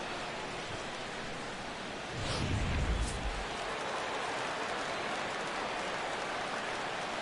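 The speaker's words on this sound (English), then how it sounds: "The rain, as we've mentioned, coming down fairly steadily here at game time." Steady rain falls on a baseball stadium in the MLB 16 The Show video game, a constant hiss of drops that swells briefly near the middle and then settles back, with no voices over it.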